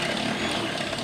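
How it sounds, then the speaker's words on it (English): A stepped drill bit bores holes for rivnuts on a Toyota Mark II JZX110 during a budget manual swap, a loud, continuous, harsh whirring grind at close range. "So I've got this stepper drill bit."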